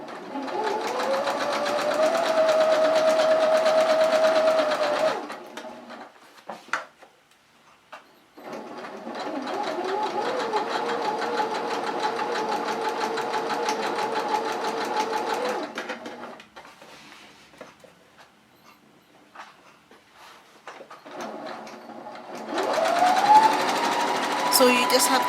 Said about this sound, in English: So you just have to stitch all the way to the end.